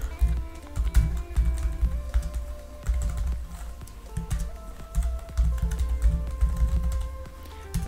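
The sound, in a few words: typing a password on a computer keyboard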